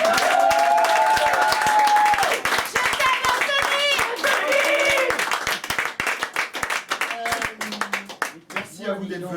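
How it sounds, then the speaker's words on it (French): A theatre audience gives a thunderous round of applause for the stage manager at a live show. The clapping is loud and dense and runs throughout, with a voice speaking over it. "fassiez un tonnerre d'applaudissements au plus merveilleux des régisseurs de ce soir"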